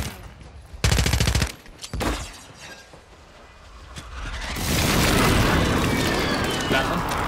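Grenade blasts in the video game Warzone, two loud broadband bursts close together early on, then a long, roaring wash of rumbling noise that builds and holds to the end, with voices talking over the combat.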